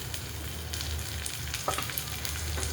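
Tomatoes and a little turmeric fry in a pan with green chilli and garlic for a bean vegetable dish, a continuous close sizzle with light stirring scrapes and a few pops.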